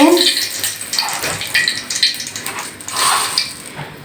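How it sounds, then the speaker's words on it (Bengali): Two bay leaves dropped into hot frying oil left from frying lentil dumplings, making a loud, rushing, water-like hiss that surges and eases in waves. "এখন আমি তেলের ভিতর দুটো তেজপাতা দিয়ে দিচ্ছি"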